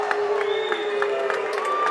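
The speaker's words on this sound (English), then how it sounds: "the crowd is definitely vocalizing their opinion" A high school basketball crowd in a gym reacts loudly after a technical foul, a steady wash of voices, whistles and shouts heard from a distance.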